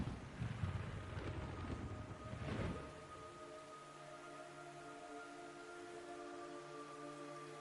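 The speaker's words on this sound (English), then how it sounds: "It's raining blood." Rain hisses steadily in Metal Gear Solid 3, with a burst of heavier downpour early on, then settles into a quieter patter beneath a sustained electronic tone.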